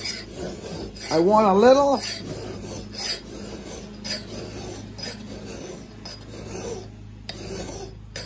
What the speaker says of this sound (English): ever so slightly now going to change my angle of my file to go to the bevel now